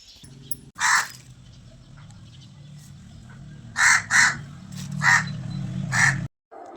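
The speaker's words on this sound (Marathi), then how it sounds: "कावळा ओरडत होता सकाळी सकाळी" A crow caws loudly nearby in the morning, giving several harsh calls in separate bursts, including a quick double caw, over a quiet low hum.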